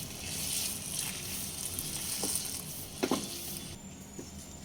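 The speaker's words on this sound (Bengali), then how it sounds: "সব দিয়ে দেব মিডিয়াম ফ্লেমে তিন থেকে চার মিনিট কষিয়ে নেব" Boneless chicken pieces fry on a medium flame for Bengali chicken ghugni, giving a continuous hissing sizzle with a few soft clinks of a spatula against the pan.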